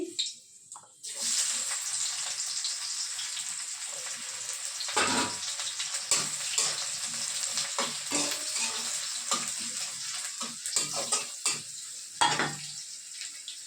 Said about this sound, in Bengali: আর এই যে পেঁয়াজ দিচ্ছি, টমেটো কুচি,